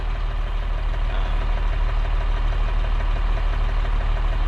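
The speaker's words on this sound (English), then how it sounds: "I'm taking a little joyride in my new to me tractor." A tractor engine in the Farming Simulator 25 video game runs continuously at a steady idle-like chug, a loud, even low rumble with a regular knocking pulse and no speech.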